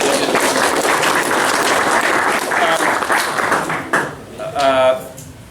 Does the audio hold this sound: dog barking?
no